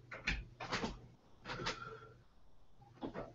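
Knocking or rattling at a door comes in several irregular bursts of hollow thuds, moderately close and fairly clear, with short pauses between groups.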